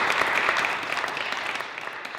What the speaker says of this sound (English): A round of applause for my team.